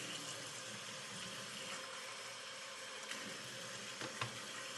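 Steady close splashing and trickling of water poured onto a fine honing stone for a straight razor, continuous and fairly loud.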